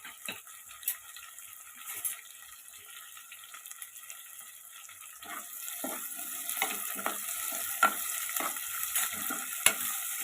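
Green chillies fry and are stirred in a pan while fenugreek mutton is cooked, with a quiet sizzle that swells halfway and irregular clinks of a spoon scraping the pan.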